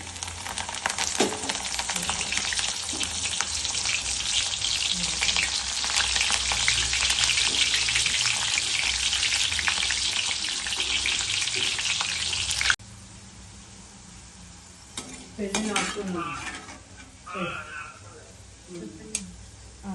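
Dried onions frying and sizzling loudly in a pan of hot oil for a snack mix, with stirring; the sizzle drops away abruptly partway through, leaving quieter clinks and scraping.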